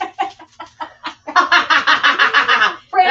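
A person imitates a chicken clucking, first with short separate clucks, then with a rapid run of louder rhythmic clucks, close and clear, and the imitation is heard alone.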